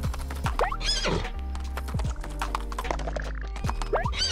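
A horse in the golf video game What The Golf gallops with rhythmic clip-clop hoofbeats and lets out several loud whinnies over a steady synthetic backdrop.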